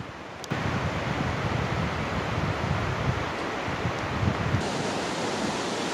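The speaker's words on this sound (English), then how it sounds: "A couple of cool waterfalls here." Waterfalls in Cascade Canyon in Grand Teton, Wyoming, produce a steady, dense roar of rushing water that starts abruptly and holds constant, close and loud, with no voices.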